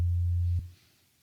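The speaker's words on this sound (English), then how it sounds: "which is a sine wave" A simple low sine wave tone, used as the base of a layered kick drum, holds steady and loud for about half a second, then cuts off, followed by a faint tail and a brief click.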